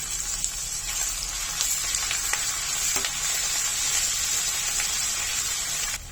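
Grated ginger, chopped garlic and cumin sizzling in ghee, a loud, even frying hiss with faint scattered crackles, running continuously with no talk.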